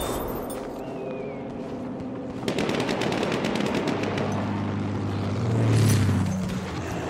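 A machine gun in Battlefield 1 fires a rapid, sustained burst of evenly spaced shots, loud and close, with engine-like rumble beneath and no talking.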